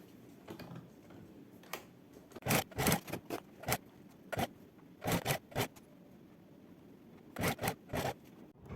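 A sewing machine stitches in short bursts of sharp mechanical clicking, several brief runs separated by pauses, close by and without talking.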